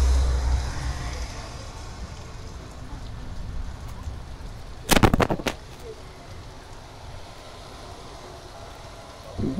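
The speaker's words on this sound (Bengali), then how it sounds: "এখন বৃষ্টি এই যে সামনের দিকে এদিকে ক্লিয়ার, বাট পিছনে হালকা হালকা হচ্ছে।" Light rain patters steadily around a Suzuki Gixxer Monotone motorcycle on the road from Jhenaidah to Barishal, a constant soft wash with a brief louder burst of noise midway.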